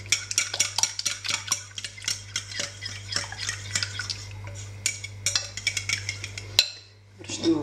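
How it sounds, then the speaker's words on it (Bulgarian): A filling for stuffed peppers with minced meat and rice stirred with a spoon in a pot, giving a steady run of light scraping and tapping clicks against the metal over a low hum before a brief pause. "Разбъркваме добре и ще го заварим на котлона."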